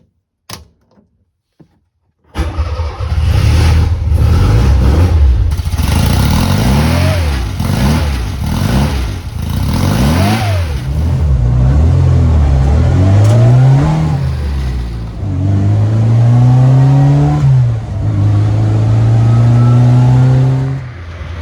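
A Fiat 600 Multipla engine, its block bored out to take new pistons, cranks and catches, then revs loudly up and down several times before settling into a steady idle, with no talk over it.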